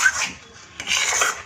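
Sooji batter being stirred in a pan with a spoon, two short scraping, rasping strokes against the pan surface, close and fairly clear with no talk.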